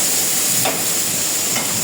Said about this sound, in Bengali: আর এদিকে মশলা কষানো হচ্ছে,